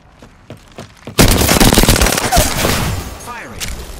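Apex Legends gunfire: a few light taps, then an abrupt loud stream of rapid automatic shots that rattles on steadily with scattered impacts and ricochets. A voice is faintly present under the shooting.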